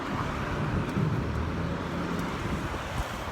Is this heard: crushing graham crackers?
no